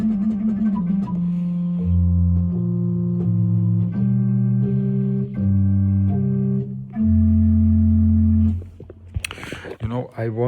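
A pipe organ is played one-handed on a gedackt stop, with sustained, pure, flute-like tones in a low register that move in slow steps and form simple chords. The music stops near the end and gives way to brief noises.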